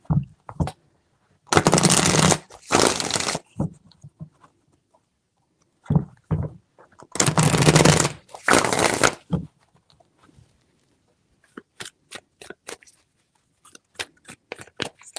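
Tarot cards shuffled by hand in two long riffling bursts, each followed by a brisk flutter, then a run of quick light taps and flicks as the deck is squared, close and fairly loud with no voice.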